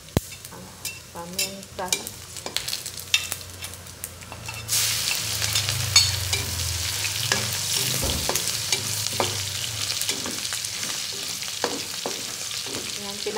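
Pork adobo sautéing in oily fat in a pan, a soft stirring and scraping that bursts into a steady loud sizzle partway through, with a brief spoken word over it.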